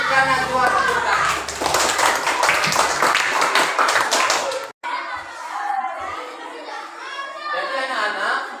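A classroom of children bursts into dense, rapid applause for a classmate that fills the first half, then cuts off abruptly to a quieter stretch of talking.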